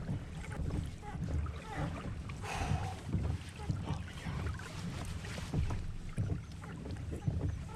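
A kayak is paddled steadily while trolling for salmon, with rhythmic paddle strokes and water splashes close by against gusts of wind across the microphone.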